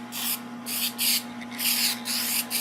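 Duplicolor aerosol spray paint applied to a 2000 Arctic Cat ZRT800 snowmobile hood, heard as four or five long hissing bursts with short pauses between them, close and steady over a faint constant hum.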